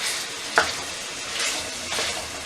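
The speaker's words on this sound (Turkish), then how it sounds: "Soğanlar hafif rengini değişene kadar kavurma işlemine devam ediyorum." Onions sautéing in a pan for a meat stew, a steady close sizzle with a sharp utensil clink near the start and occasional stirring swells.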